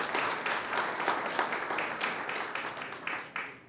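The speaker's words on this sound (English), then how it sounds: "So we do give a, a round of applause to Claire Cronin and what she's done." Audience applause at a grant awards presentation, a dense patter of many hands clapping steadily and then tapering off slightly, fairly close and moderately loud.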